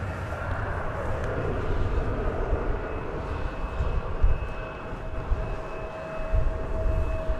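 An American Airlines Boeing 787 roars down runway 36 right at DFW Airport for takeoff, a broad, steady jet rumble with a faint high whine heard at a distance, continuous throughout.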